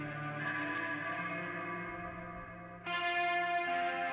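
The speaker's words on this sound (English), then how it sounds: "this clean reverb tone sounds so pretty" A clean electric guitar tone drenched in reverb from an album track rings out in sustained, shimmering chords, with a fuller, brighter chord swelling in near the end.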